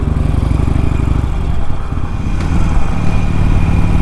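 Harley-Davidson Superlow 883 motorcycle engine while riding, a loud close rumbling V-twin throb that shifts pitch as the bike changes speed, steady and continuous with no talk.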